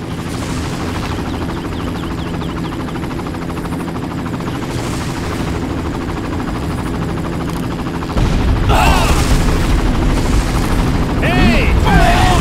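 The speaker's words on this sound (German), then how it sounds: "Werden wir von Artillerie beschossen oder ist es der Hubschrauber?" A helicopter and gunfire in the video game Far Cry, a continuous loud rotor drone with rapid bursts of shots that grow louder and denser toward the end.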